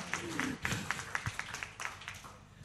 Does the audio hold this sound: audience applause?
yes